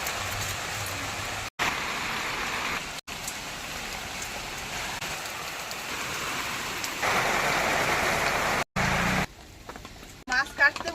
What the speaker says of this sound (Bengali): এসে বৃষ্টিটা চলে এলো বন্ধুরা একটু ভিজেও গেছি রান্নাঘরটা অনেকটা ভিজে গেছে